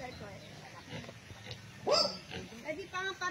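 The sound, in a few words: native pigs grunting on a farm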